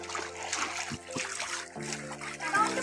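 People splash and play in water while catching fish during a chakara (abundant fish harvest), with choppy splashing bursts and voices mixed in throughout.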